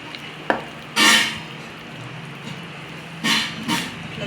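Gram flour batter poured straight onto a hot tawa, giving bursts of loud sizzling that flare up and fade, with a quieter crackle in between.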